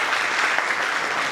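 Audience applause from a crowd at a Hindi-language business achievers' event, steady dense clapping throughout, loud and close with no talk over it.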